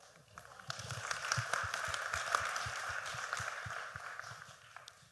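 Small audience at an academic Q&A session applauds professors, light scattered clapping that swells in the middle and fades toward the end, fairly distant and thin.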